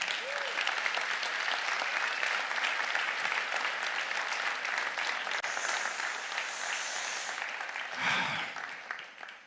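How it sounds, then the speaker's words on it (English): A large audience applauds at an awards ceremony, sustained dense clapping that stays strong for several seconds, with a few cheers or whoops briefly rising near the end as it tapers. "doesn't that deserve applauding? Should we give them a round anyway?"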